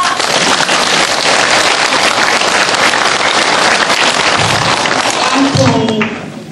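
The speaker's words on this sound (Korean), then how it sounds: "박수 한번 드립시다" An audience applauds during a Korean group retreat event, with loud, sustained clapping from many hands that fills the whole stretch before tailing off at the end, while a voice speaks briefly near the close.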